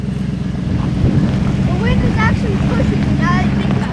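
Wind gusts on a mountain lookout produce a steady low rumble and buffeting against the microphone throughout, while people talk over it.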